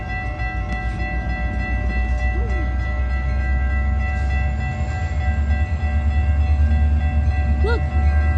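A Metra heritage-unit passenger train passes at Edgebrook with a steady loud rumble and wheel noise throughout, plus brief horn-like tones near the end.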